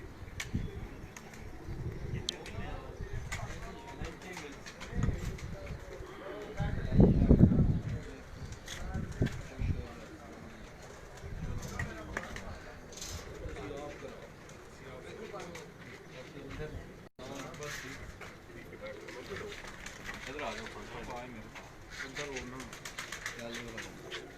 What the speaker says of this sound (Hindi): ये वो कबूतर हैं उस्ताद दिलावर खान साहब मरहूम के हीरा लाल कबूतर